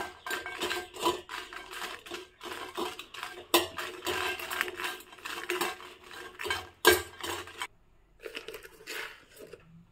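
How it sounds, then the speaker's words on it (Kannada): Four dry red chillies are fried and stirred in a pan for an Udupi-style gojju, giving steady clattering and scraping of a spoon against metal with crackly bursts, close and without talk. "ಫಸ್ಟು ಒಂದು ಪ್ಯಾನ್ಗೆ 4 ಒಣಮೆಣಸನ್ನು ಹಾಕ್ತಾಯಿದ್ದೀನಿ. ಇದನ್ನು ಚೆನ್ನಾಗಿ ಹುರ್ಕೋಬೇಕು."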